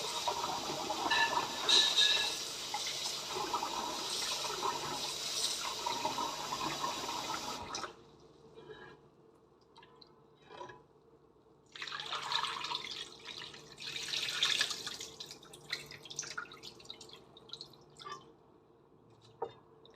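Soybeans for homemade tempeh are washed in water, a loud, continuous rush and splash of running water that cuts off midway, leaving quiet drips, then resumes.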